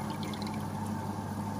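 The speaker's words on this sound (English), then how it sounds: "And then the trays overflow back into the bottom" Fresh water runs through PVC tubing into fish fry grow-out trays and overflows back down to a lower tank, making a continuous, quiet trickling and splashing with no pauses and no talk.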